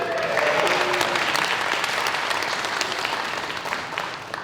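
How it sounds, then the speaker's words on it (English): Thunderous applause from a convention audience at Power Morphicon 2024, a dense, loud wash of clapping from a large crowd that holds steady and then fades slightly toward the end. "Thunderous applause."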